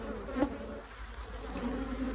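Honey bees buzz steadily in a close, continuous drone inside an opened beehive, rising slightly at moments.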